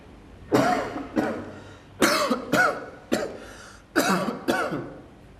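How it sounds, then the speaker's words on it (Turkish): A person coughs several times in short, harsh bursts, some in quick pairs, close and clear with pauses between. "Öksür."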